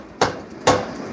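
Three sharp, loud hammer blows strike a metal part of an e-bike, evenly spaced about half a second apart, each a crisp close impact with a short ringing tail.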